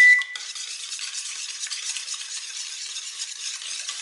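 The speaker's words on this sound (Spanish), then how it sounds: "Vamos a batir, pueden usar un batidor de globo como este" Balloon whisk beating yogurt sponge cake batter in a bowl, a continuous soft swishing and tapping stir, fairly quiet and steady, with no voices.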